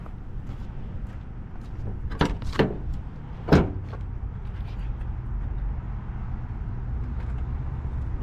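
An old Mazda B2200 pickup, unused for 20 years, with a newly installed carburetor and the throttle not hooked up, rumbles steadily at a low idle. A few louder clunks and rattles rise over the engine noise.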